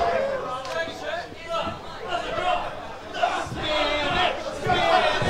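A wrestling crowd at an indoor event roars and cheers in loud surging waves, many voices shouting and chattering together close by.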